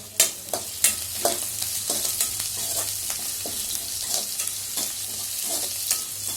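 Onions for cauliflower kulambu sauté in a hot pan with a steady close sizzle, punctuated by repeated scraping and knocking of a stirring spoon at an uneven rhythm, and no talking.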